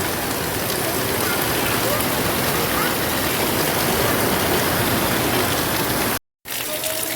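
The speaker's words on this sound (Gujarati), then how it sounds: "વરસાદ બહુ ચાલુ થઈ ગયો અત્યારે" Heavy rain falls in a loud, steady broadband rush like gushing water, continuous until a brief dropout near the end, with no voices.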